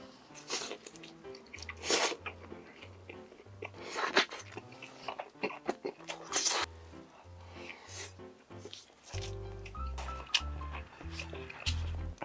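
Someone eats a convenience-store cheese pork cutlet, with close crunchy bites and chewing, mixed with soft background music and some brief vocal sounds.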